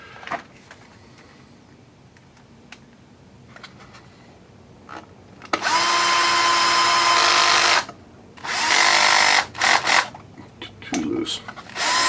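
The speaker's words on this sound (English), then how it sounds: "Got to loosen up the clutch because we're only working with smaller screws now" A power drill with its clutch loosened drives small screws, giving two loud sustained whirring runs of a few seconds each, the second broken by short stops, after a quiet stretch of faint handling noises.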